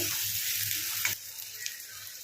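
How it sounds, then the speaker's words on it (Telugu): Chopped onions fry in a pan for a drumstick and tomato curry, giving a dense, continuous close-up sizzle that eases slightly toward the end. "ఉల్లిపాయలు అయితే మంచిగా ఫ్రై చేసుకోండి"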